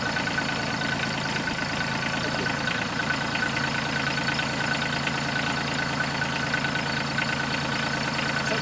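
A tractor engine idles steadily, producing a continuous low rumble with a busy mechanical chatter that stays constant and close throughout, with no talk over it.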